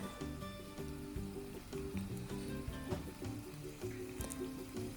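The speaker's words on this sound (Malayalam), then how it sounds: "നമ്മളെ ചിക്കൻ നമുക്ക് ഇതുപോലെ കുറച്ച് ബട്ടറും ഒലീവ് ഓയിലും ഉണ്ടെങ്കിൽ അത് ഇട്ടിട്ട് ഒന്ന് ഷാലോ ഫ്രൈ ചെയ്ത് എടുത്ത് മാറ്റി വെക്കാം" Chicken shallow-frying in butter and olive oil for maqluba, giving a soft, continuous sizzle under steady background tones.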